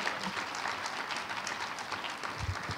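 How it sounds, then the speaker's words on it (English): Conference audience applauding panelists at the close of an education technology keynote, a soft, steady patter of many hands heard from a distance. "one last round of applause for both our panelists and Joe."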